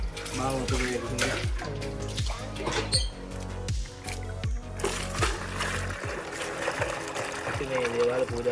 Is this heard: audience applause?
no